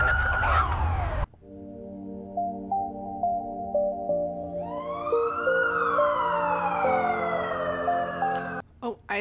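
An ambulance siren from a computer-generated scene wails loud and close, its tones climbing and falling in long sweeps over steady droning layers, with a brief burst of other sound at the start.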